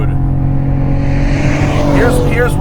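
Cadillac CT4 Blackwing engine roaring under hard acceleration, a loud rising growl as revs climb, with someone talking over it.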